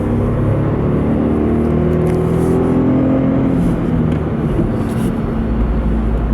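A 2016 Smart Forfour engine revs steadily in second gear, its deep harmonic drone rising gradually in pitch, loud and close, with no talk.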